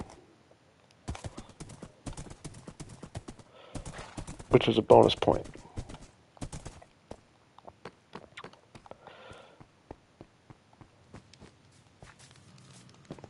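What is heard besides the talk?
white horse hooves clip-clopping in Minecraft video game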